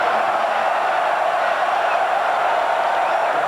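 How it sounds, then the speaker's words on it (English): A football stadium crowd at a 2001 Colorado Buffaloes game roars as the team faces fourth and goal, a steady, far-off wash of cheering that keeps the same level the whole time. "Listen to the crowd."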